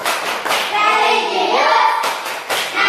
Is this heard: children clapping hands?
yes